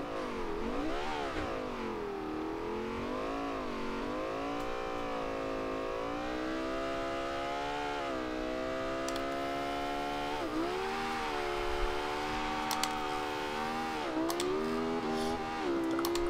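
A 2010 Lexus LFA supercar in Forza Horizon 2 screams through the gears with a rising, high-pitched engine wail, revving up and shifting repeatedly, loud and continuous with no talking.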